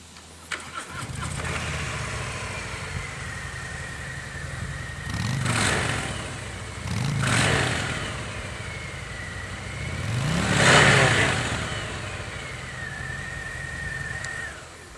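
A stock Harley-Davidson Softail Heritage with a 114 engine idles with a deep rumble, then revs up three times in loud swells before settling back to a steady idle.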